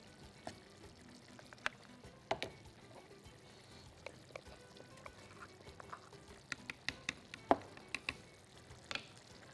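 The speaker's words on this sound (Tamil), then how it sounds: "ஸோ இன்னும் கொஞ்சோண்டு தேங்காய் அதில் போட்டுக்கிறேன்." Grated coconut is added to cooked rice and mixed in, making soft scattered scrapes, taps and clinks of a spoon against a pot, quiet and close with no talking.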